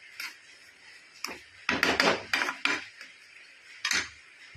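A spoon stirring kesari sweet in a pan over a low flame, with irregular scraping and clinking strokes against the metal, close and moderately loud with quiet gaps between bursts.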